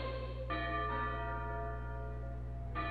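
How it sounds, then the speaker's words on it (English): A bell rings in the video game PokéPark Pikachu's Adventure, a sustained metallic chime with a long ringing decay and a second strike near the end, steady and moderately quiet over a low background hum. "Oh, the bell's rung."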